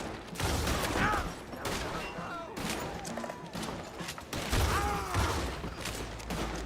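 Shotgun firing in Red Dead Redemption 2, a few loud blasts with crashing game noise, heard close under a voice talking through the action.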